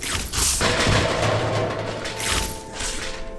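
Web grenades fired in the Spider-Man Homecoming VR game, a few quick bursts of impact noise and booms over a low mechanical hum, fairly faint overall.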